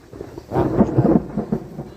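Rain beginning with a low rumble of thunder, a muted roll that swells after a quiet start and then lingers over soft rainfall, with no talking.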